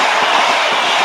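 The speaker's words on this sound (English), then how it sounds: "Here comes the Leeds train." A Class 91 Intercity locomotive hauling the Leeds service rushes past Newark North Gate station, a loud, close, steady roar of wheels and air.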